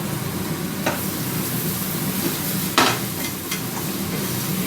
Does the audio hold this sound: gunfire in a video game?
no